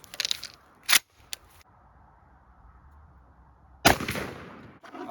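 A shotgun loaded with a Remington Nitro Turkey 3.5-inch number 5 shell fires one sharp, loud blast, followed by a rumbling echo, with a few clicks of the gun being handled beforehand.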